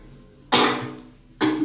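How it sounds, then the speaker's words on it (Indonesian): Two harsh, breathy coughs burst out close to the microphone, the second following about a second after the first, from a teacher in the middle of a maths lesson. "Maaf batuk."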